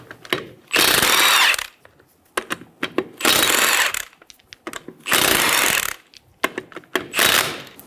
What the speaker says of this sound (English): Using a 19mm socket, remove the 4 lug nuts.